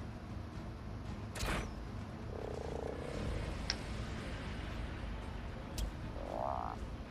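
Frog creature croaking in the video game Ark: Survival Evolved on the Fjordur map, short rising croaks and chirps repeating every few seconds over a steady game ambience, fairly quiet and close.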